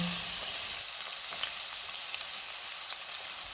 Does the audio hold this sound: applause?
no